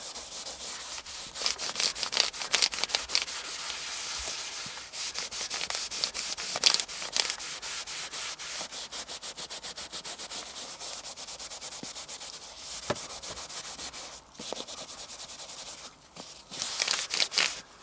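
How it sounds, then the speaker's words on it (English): A fresh white baby wipe rubs across a white Tesla seat in steady, close scrubbing strokes with soft friction bursts, short pauses between passes, and no voices. "So we're just gonna wipe this"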